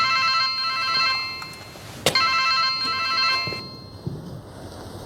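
A telephone rings with a repeated trilling electronic tone during a tense crime-thriller drama scene. The rings are steady and mid-loud over quiet room ambience, broken by one sharp thump, then the ringing stops near the end.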